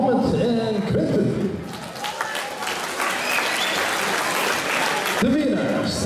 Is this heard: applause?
yes